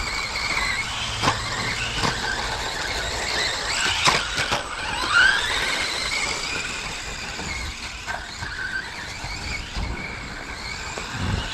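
A GTFans M610 12th scale electric RC buggy running on a track on a 2S CNHL battery, a steady high whine with rising and falling squeals under throttle and occasional sharp ticks, no talk.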